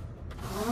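The power sunroof on a 2023 Hyundai Tucson SEL closes, giving a brief, fairly quiet electric motor whine that rises in pitch inside the cabin, with no speech.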